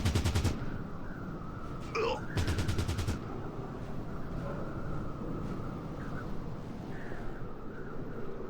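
Two short bursts of rapid automatic gunfire crack in the video game Fallout Tactics: Brotherhood of Steel. Each volley lasts under a second and is followed by a low steady background hum, with a faint voice in between.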